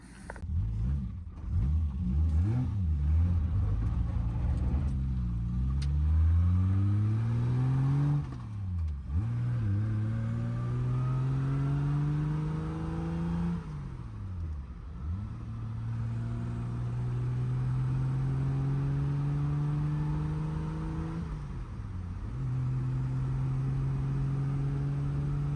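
A 1969 Triumph GT6 sports car with a steering vibration fault is driven. Its engine revs up through several gears with rising whines and pauses at each shift, and a steady rumble sits underneath throughout.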